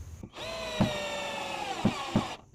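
A Bonya cordless drill drives a 2-inch screw, giving one sustained high motor whine of about two seconds, close and loud, with a few dull knocks as the screw bites and seats.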